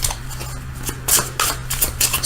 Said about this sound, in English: I'm going to shuffle these for just a second.